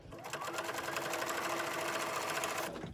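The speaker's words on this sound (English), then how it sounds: "Set your machine for the zigzag and go to town." A sewing machine runs a zigzag stitch along a quilt binding on minky fabric, a steady, close, continuous mechanical whir that holds unbroken for about three seconds with no talking.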